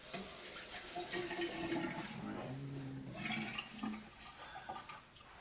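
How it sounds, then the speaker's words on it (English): Water runs steadily from a tap as hands are washed in a patient's room during a nursing skills check. The flow is continuous and fairly close, with splashing and rubbing that fades toward the end. "Wash my hands."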